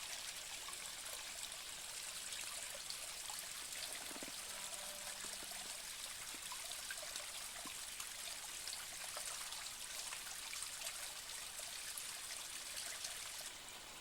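A small stream of water trickles through rotten wood in a forest gorge, a steady close bubbling flow that runs without a break, with no voices.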